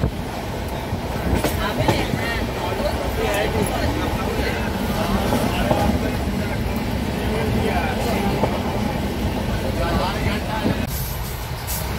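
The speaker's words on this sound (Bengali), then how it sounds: "আর ট্রেনের স্পিড বেশ ভালো" A moving passenger train, a long-distance express from Amritsar to Kolkata, rattles steadily inside a crowded carriage with continuous broadband rumble and clatter, occasional sharp knocks and clacks, and a murmur of voices underneath.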